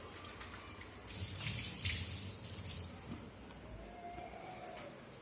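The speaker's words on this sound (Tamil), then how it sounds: "டெட்டால் சோப்பை போட்டு கழுவி" Tap water runs steadily while something is washed with Dettol soap, a close splashing gush that swells for a moment in the middle and then settles back to a steady flow.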